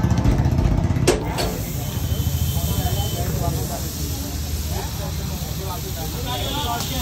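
Bread frying in Amul butter on a street-stall griddle in Faridabad, a continuous loud sizzling hiss close by with a sharp clatter near the start, while people talk over it.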